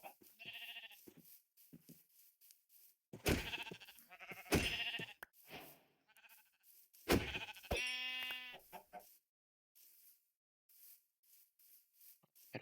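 Sheep in Minecraft give several short, clear bleats in separate bursts, loud and close, with quiet gaps of silence between them.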